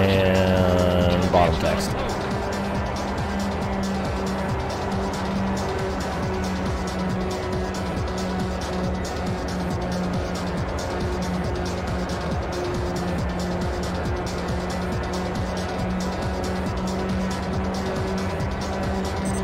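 A race car engine at full throttle in the video game R: Racing Evolution on a superspeedway, a steady sustained high-revving drone that carries on without a break as a voice talks over it.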